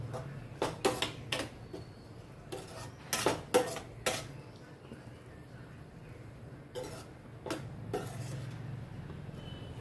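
A spoon scrapes and clinks against a cooking pot as raw prawn curry with coriander is stirred, giving irregular clusters of metallic taps over a low background hum. The sounds are faint and come without talk.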